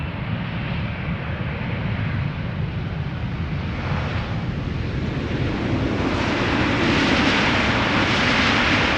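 A KLM Boeing 777-300 from Johannesburg touches down at Schiphol Airport with a loud, continuous engine roar and rushing wind noise that swells toward the end, with no talking.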